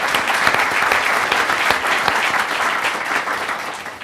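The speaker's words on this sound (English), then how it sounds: "let's give the president a round of applause for his great work" Loud, dense audience applause at a STEM leadership scholars event where the governor speaks. The clapping is steady throughout, with a few sharp individual claps standing out from the crowd.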